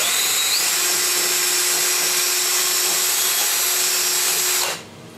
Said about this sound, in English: What I'm doing there is just wiggling the drill around as it's spinning